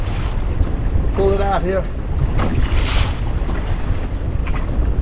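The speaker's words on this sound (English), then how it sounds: "That wind makes it tough to do that." Wind buffets and rumbles across a microphone on a small fishing boat on a lake, with lapping water and someone speaking briefly over the steady blustery noise.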